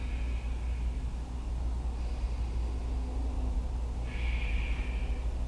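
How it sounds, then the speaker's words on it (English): Ujjayi breathing during a yoga session gives a continuous, hissing, ocean-like breath, steady and close, with slight swells as inhales and exhales alternate. "if you still have your ujjayi breath activated, keep on ujjayiing it"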